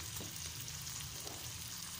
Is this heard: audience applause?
no